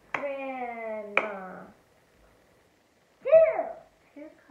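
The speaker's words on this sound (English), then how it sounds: "Okay, let's clap it." Two sharp hand claps in a home syllable-counting game, each landing on a child's spoken syllable, with voices chanting a word along with the clapping.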